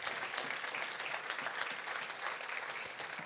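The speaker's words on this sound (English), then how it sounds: "I'm not used to people clapping." A church congregation on its feet gives a welcoming round of applause, an even, moderately quiet wash of many hands clapping continuously for a few seconds without talk.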